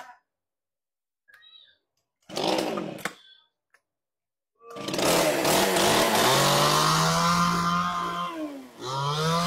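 A Japanese 25cc chainsaw engine gives a few clicks and a short pull-start burst, then catches and runs loud and close, buzzing steadily before a brief dip in revs.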